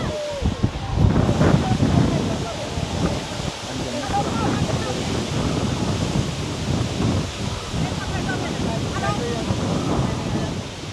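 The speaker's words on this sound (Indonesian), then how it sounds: "jembatannya kena angin" Wind buffets a glass bridge high over a waterfall at Gu Long Xia in Foshan, China, a steady dense rumble pressing on the microphone for the whole stretch, with voices faintly underneath.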